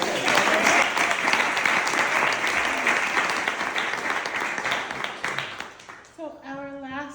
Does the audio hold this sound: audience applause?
yes